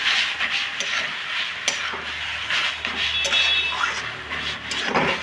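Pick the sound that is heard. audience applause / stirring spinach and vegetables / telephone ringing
stirring spinach and vegetables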